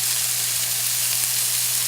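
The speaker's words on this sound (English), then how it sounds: "Next I have half a pound of ground turkey sausage. Just break off pieces and drop them in the pan." Ground turkey sausage sizzling in a hot pan, a steady bright crackle throughout with a low hum underneath and no voices.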